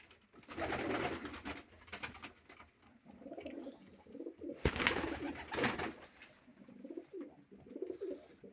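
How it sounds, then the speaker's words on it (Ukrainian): Pigeons delivered in a parcel coo repeatedly at close range, soft throaty calls in rhythmic bursts with a few louder rustles between them. "Ось дві ось голубочки таких."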